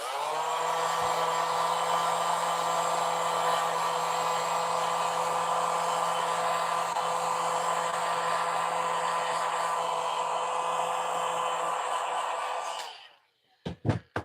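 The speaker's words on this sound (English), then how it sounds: "that's what the heat gun is for" A heat gun blows hot air over tape in a close, loud, steady whooshing hiss lasting many seconds before cutting off, followed by a few brief handling knocks.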